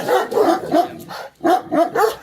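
A dog barks in quick bursts, about five loud, close yaps with a brief pause in the middle, no talking.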